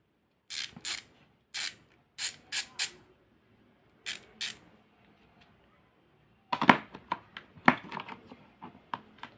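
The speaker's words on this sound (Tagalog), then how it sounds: "Sa murang halaga, meron na po tayong torque wrench po." A torque wrench's ratchet mechanism clicks in short, separate bursts, close and crisp, followed by a denser cluster of clicks and handling noise.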